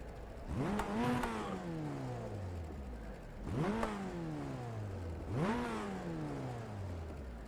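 Formula Ford 1600 race cars in the iRacing sim at Brands Hatch Indy rev their engines on the grid before the start, three rising-and-falling revs in a steady rhythm, fairly faint.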